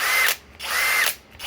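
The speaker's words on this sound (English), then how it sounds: "Pulse is when you're, drilling that iffy stuff." A Master Force Boost hammer drill driver runs in pulse mode, its whining motor surging in quick repeated bursts with brief gaps between, close and fairly loud.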